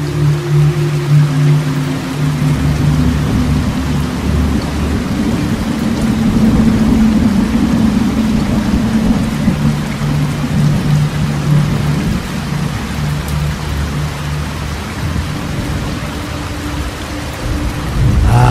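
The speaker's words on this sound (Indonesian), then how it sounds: "Hari ini desa Kumbul Sari diguyur hujan sedari pagi" Heavy rain pours down steadily over a village at night in an audio drama, a dense loud hiss of downpour with low rumbling underneath, continuous and unbroken throughout.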